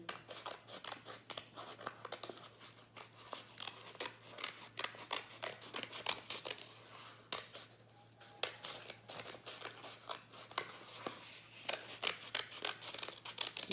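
Scissors snip through paper while hand and heart shapes are cut out for a Mother's Day craft, a steady run of close, crisp cuts and paper crinkles over a low constant hum, with no talking.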